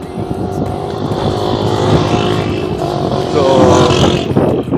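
Cars idle and creep along in a mountain road traffic jam near Babusar, a steady close engine rumble with a brief word spoken over it.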